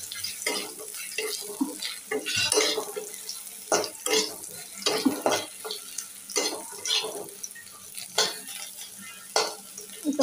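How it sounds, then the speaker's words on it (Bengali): Dried puti fish frying in hot oil, with a crackling sizzle that comes and goes as a utensil stirs and scrapes the pan in uneven bursts, close by, with no talk. "এই যে পুঁটি মাছের শুটকি তেলের পর দিয়ে ভেজে নিচ্ছি গো"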